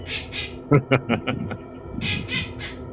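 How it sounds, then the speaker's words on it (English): A bird, heard indoors during a tabletop game session, lets out harsh, scratchy squawks in two quick pairs, one at the start and one near the end. A person's voice comes through in between. "I think the bird's laughing at me as well."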